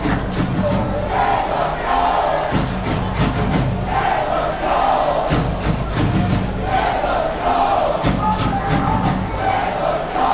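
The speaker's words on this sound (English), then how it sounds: "Crowd are chanting your name." Football crowd at a Chattanooga FC home match against Atlanta Silverbacks, chanting loudly and continuously in rhythmic swells, with drums and shouts mixed into the dense roar.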